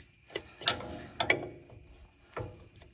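A wrench ratchets on a bolt at the front shock of a 1980s–1990s Ford F-series truck, giving a few separate, sharp clicking bursts with quiet pauses between them, close and alone.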